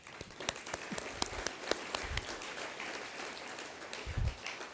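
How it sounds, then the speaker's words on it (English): Audience applause at a scientific conference plenary session, a faint, steady patter of clapping heard from a distance, with a few sharper individual claps and low thumps mixed in over nearly five seconds. "May we just appreciate them with just a clap."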